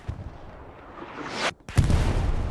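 Artillery strike in the video game Hell Let Loose: a rising rush builds for about a second and a half, then after a brief dropout a loud, heavy blast lands close by and its booming rumble carries to the end.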